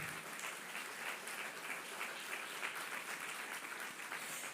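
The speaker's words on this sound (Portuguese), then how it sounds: "Pode aplaudir, glória a Deus." Church congregation applauding during a Methodist service, a steady, dense wash of many hands clapping that fills the space evenly from start to finish with no speech on top.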